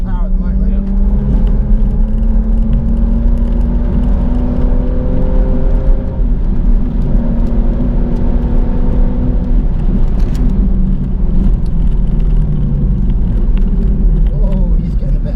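A Stage 1 BMW M140i is driven on a hot lap at Bedford Autodrome, heard from inside as a loud, steady engine drone that rises and falls with throttle under ongoing conversation between occupants.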